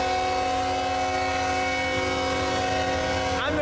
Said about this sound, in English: Maybe at a good point too if the train's passing.